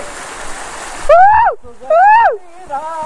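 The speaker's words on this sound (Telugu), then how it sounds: "చూసారా వాటర్ ఫాల్స్ ఇది" A steady rushing roar comes from a waterfall in a scenic spot about 160 km from Hyderabad. Loud excited vocal calls soon ride over it.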